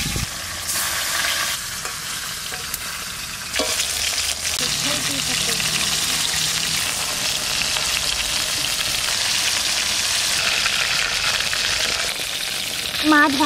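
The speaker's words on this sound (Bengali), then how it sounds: "মাছটা ভেজে নিচ্ছি" Fish sizzles and spits steadily as it fries in hot mustard oil in a kadai over a village-style stove, a dense, loud crackle that runs unbroken with faint clatter at times.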